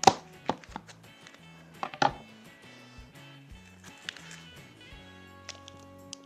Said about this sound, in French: je vais commencer par couper mon tofu en allumettes